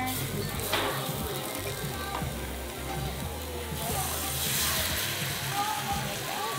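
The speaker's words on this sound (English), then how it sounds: "you're gonna start hearing that nice simmer" Egg and hamachi yellowtail frying in a hot bowl at a restaurant table, a steady close sizzle and crackle running throughout beneath people talking.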